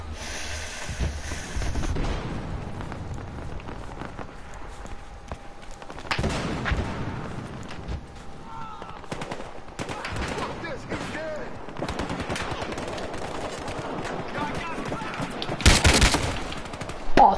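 Gunfire in the Battlefield video game, with repeated rapid shots and bursts running throughout, some louder volleys near the end, over a steady game background.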